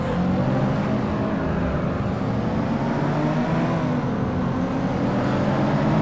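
A race car engine from the driving game FlatOut roars steadily and loudly at the start of a race, with a continuous dense revving drone and no talk.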